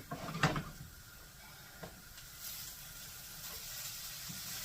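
Peppers sizzle quietly in a skillet for a hashbrown casserole, a soft steady hiss under a brief clatter of the pan near the start.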